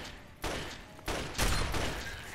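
Gunshots in Fallout 3: three separate loud blasts roughly half a second to a second apart, each with a trailing decay, the last one the heaviest.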